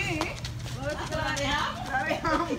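Hooves clip-clop on hard ground at a walking pace, partly masked by people talking nearby.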